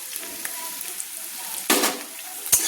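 Onions and chopped chillies sizzle steadily in a pan, with two sharp scraping stirs of a spoon standing out near the end; close and moderately loud, no talking.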